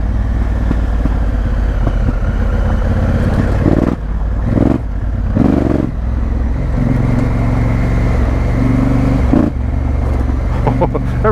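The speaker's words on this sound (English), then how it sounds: "Oh, every time you touch the throttle, the back spins" Honda Africa Twin motorcycle ridden off road on dry, dusty chalk, its engine droning steadily throughout with brief throttle blips and a near, loud rumble, while a rider talks over it.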